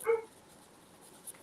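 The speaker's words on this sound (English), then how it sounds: "And yes, that's a dog in the background." A dog gives a short bark or whimper at the start, faint and in the background, then only quiet room noise follows.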